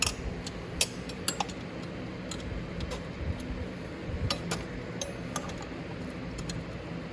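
Metal clinks and rattles as the chain of a 1000W E-Racer electric ATV is moved around the axle, with sparse sharp clinks at irregular intervals over a quiet background.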